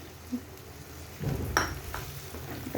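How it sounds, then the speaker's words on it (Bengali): Chicken gizzard and liver sautéing with spice masala sizzle softly in a pan, then grow louder as a spoon scrapes and stirs with a few clinks against the metal, close up with no talking. "এবার মশলাটাকে দিয়ে একটু কষিয়ে নেব।"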